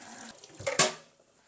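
Tap water runs briefly into a sink as something is rinsed during breakfast cooking, a short close splash that swells and then cuts off, with no talking.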